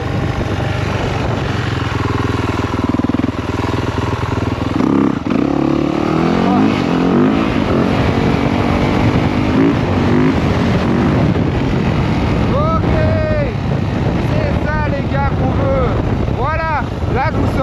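A motorcycle engine roaring continuously and loudly as the rider pulls a wheelie on Miami Beach streets, with rising revs and heavy wind buffeting on the microphone, and the rider's voice mixed in.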